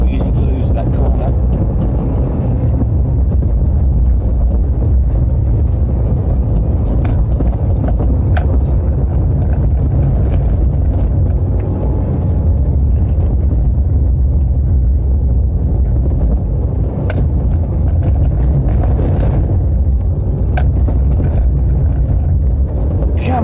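A Nissan Micra K11 is driven hard around an autosolo course, its engine droning loudly and continuously inside the car while a voice speaks over it.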